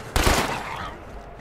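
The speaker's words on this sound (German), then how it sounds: "Die Toilette ist einfach explodiert." A toilet blows apart in State of Decay 2 with a single sharp, loud blast followed by a rough, decaying rumble lasting about a second.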